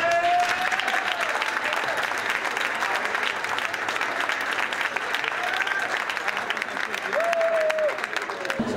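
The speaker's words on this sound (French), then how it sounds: "je crois qu'on peut les applaudir." Audience in a Monaco nightclub applauds a local music label at a youth political campaign evening, steady dense clapping filling the room with a few whistles and voices mixed in.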